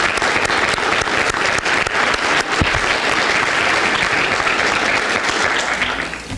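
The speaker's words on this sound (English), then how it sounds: "So would you give them a round of applause, please?" An audience at a school children's speech contest in Port Huron breaks into loud, sustained applause that holds steady for several seconds before beginning to taper at the end.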